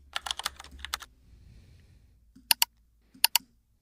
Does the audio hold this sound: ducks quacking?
no